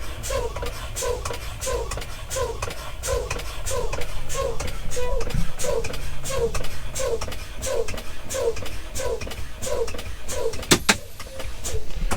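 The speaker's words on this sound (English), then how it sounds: "We're going to keep pumping until both brakes pop out around 20 to 40 psi." A Class A truck's air brakes are pumped down during a CDL pre-trip inspection, giving a steady repeating cycle of short hissing puffs from the pedal and brake valves, evenly spaced and close, with an engine idling underneath.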